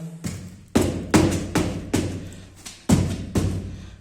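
A foot taps foam pieces several times to press them together while building a foam base, giving about eight soft, close thuds at an irregular pace, each one sharp at the start and quickly fading.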